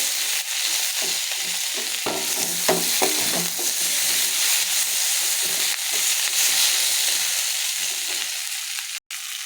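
Steady, close sizzling and frying from a hot pan as water goes in, with irregular stirring scrapes in the first few seconds and the hiss continuing evenly to the end, with no talking.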